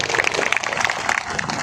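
An audience claps steadily at a Vinayaka Mahasabha celebration honouring a mimicry performer, a dense, continuous patter of many hands filling the hall without pause.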